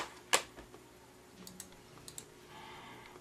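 A Microsoft computer keyboard being handled, with one sharp knock followed by scattered light clicks and taps, close and fairly quiet.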